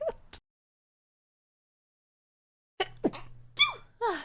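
A person sneezes at the start, then after a long silence lets out a few more short sneezes and exclamations over a faint low hum. The sounds are close, brief and spaced apart.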